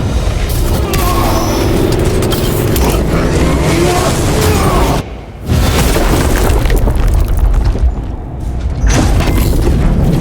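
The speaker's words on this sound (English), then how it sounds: "I hear engines." Loud, continuous mechanical rumble of engines amid booming battle noise in the video game Warhammer 40000 Space Marine II, with a brief dip midway before the heavy roar resumes.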